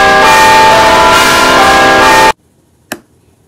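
A loud, dense ringing burst from a bell hammer strike in a Super Smash Bros. fan animation lasts a couple of seconds and cuts off abruptly, followed by near silence and one short sharp click.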